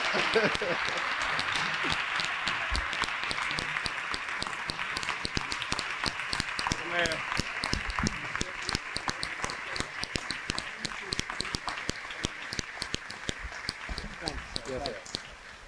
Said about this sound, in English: Please give our brother a warm round of applause.